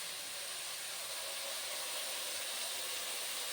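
Onions and green chillies sizzle in a pan as the base for a red amaranth thoran, a soft, even frying hiss that holds steady for the whole stretch, moderately quiet and without any talking.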